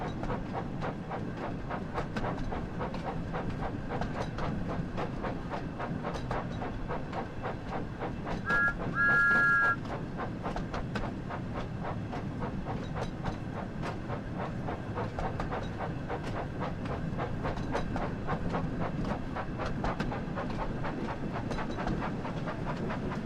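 Train running on rails in a Thomas & Friends video game, a steady rhythmic clickety-clack under continuous rumble, with a brief two-note whistle near the middle.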